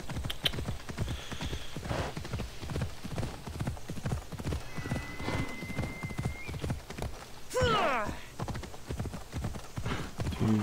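A horse in the video game Assassin's Creed Odyssey gallops in a fast, steady rhythm of clip-clopping hooves, with a whinny partway through and a player talking over it.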